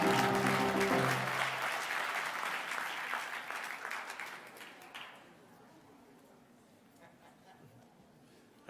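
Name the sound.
audience applause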